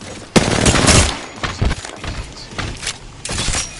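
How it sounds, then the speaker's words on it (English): Video game shooter gunfire, rapid loud bursts of automatic shots in several clusters with sharp cracks, close and dominant, under brief radio-style voice chatter. "Opening fire."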